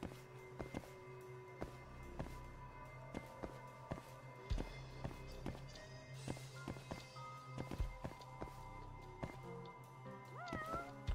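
A cat meows several times amid video game sound effects, with soft footstep thuds and clicks scattered throughout at a moderate level.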